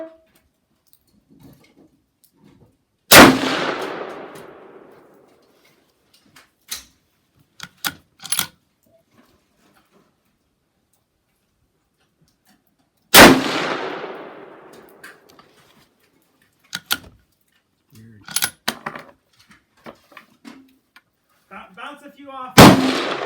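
Rifle shots at an outdoor shooting range: two loud, sharp reports about ten seconds apart, each with a long fading echo, alongside scattered clicks and handling noises.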